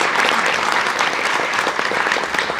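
Sustained applause from a conference audience of librarians and guests, dense and steady clapping filling the room throughout.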